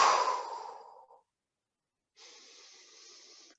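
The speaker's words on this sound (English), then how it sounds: "So this big blowing exhale out of the mouth." A big blowing exhale out of the mouth during Kundalini breathing, loud and close at first and trailing off, then after a silence a softer, steady airy breath.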